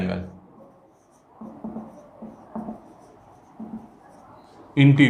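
Chalk or marker writes on a board in a series of soft scraping strokes at a steady pace, with a teacher's voice speaking at the start and end.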